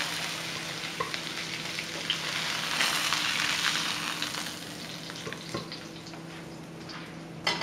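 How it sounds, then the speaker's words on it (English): Sage and ham stuffed chicken breast browns in a pan with a soft, continuous sizzle that swells slightly midway, with a few light clicks and no voices. "once that's just browned on both sides, I'm going to just take it off the heat"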